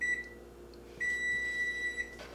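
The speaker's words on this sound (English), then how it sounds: "I have to microwave this first, so let me go microwave it for a minute." A microwave oven heating milk hums quietly under three steady electronic beeps, each a clear high tone, with the second beep held for about a second.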